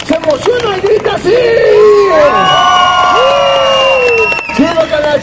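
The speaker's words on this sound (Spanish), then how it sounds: "¡Fuerte el aplauso! ¡La gente en Oaxaca se emociona y grita así!" A street crowd in Oaxaca's historic centre cheers and shouts loudly, with sustained whoops and high excited yells from adults and children rising together, then tailing off into scattered voices.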